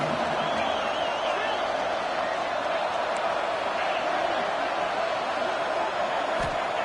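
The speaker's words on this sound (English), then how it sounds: "This crowd coming to life here, trying to help the defense get a stop with the offense pinned back." A college football stadium crowd at a Penn State game at Texas Tech roars steadily to urge the defense on, a dense continuous wall of cheering that stays loud throughout.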